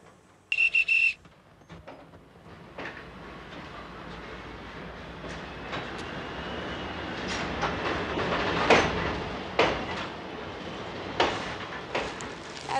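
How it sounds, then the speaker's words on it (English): A train whistle gives one short, piercing blast at a station, then a departing train's rumble and rhythmic wheel clatter slowly build and grow louder, with no talking. "That was the last train in from Paris."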